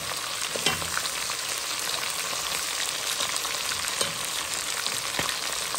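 Onions fry in a pan with a steady, close hiss and crackle, broken by a few light taps of a utensil, and no voices are heard.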